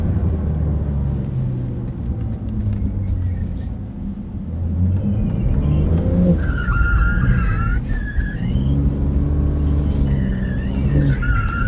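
A 2023 Porsche 911 Turbo S on a track at a driving experience center gives a steady loud engine drone from inside the cabin, with the revs rising and falling as it brakes and accelerates, and brief tire squeal and rumble.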